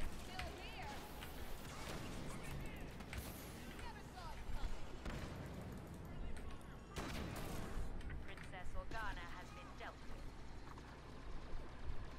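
Gunfire and explosive blasts from a Star Wars Battlefront battle, with a grenade landing close by; dense, continuous combat noise fills the scene with repeated sharp bursts, and a player talks over the action.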